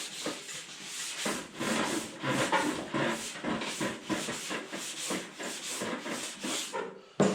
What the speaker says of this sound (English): This Norton sandpaper is some good sandpaper.